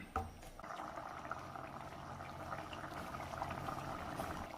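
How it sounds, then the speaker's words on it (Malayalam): A mixed theeyal curry of onion, carrot and bitter gourd with ground paste bubbling in a pot: soft, steady, close boiling with a faint clink at the start and no voices. "ഒരു 1 മിനിറ്റും കൂടി ഒന്ന് തിളയ്ക്കണം"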